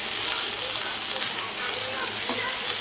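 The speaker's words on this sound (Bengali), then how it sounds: "এখন চিকেনটাকে ভেজে নিব" Boneless chicken breast pieces sizzling in hot mustard oil with chopped onion, a steady close, dense frying hiss with faint stirring scrapes throughout, no voices.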